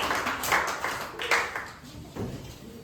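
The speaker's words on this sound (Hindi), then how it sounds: "तो एक बार तालियां माला मैम के लिए बजा रहे हैं" Indoor audience claps at a Guru Nanak Gurpurab celebration event, light scattered clapping in a few uneven bursts, fairly faint and roomy rather than a full ovation.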